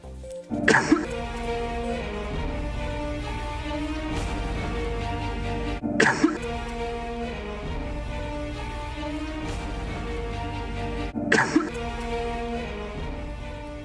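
A person coughs three times, each a single loud, harsh burst spaced several seconds apart, over a steady layer of music or background drone.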